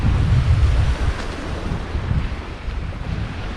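Loud rolling surf washing in and out on a stony beach at Deliklikoy, Alacati, heavy broadband roar with wind buffeting the microphone, no voices.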